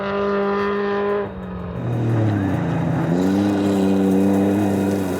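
A 20-year-old Toyota Corolla rally car drives a forest stage, its engine note rising and falling through gear changes, loud and close throughout without any talk.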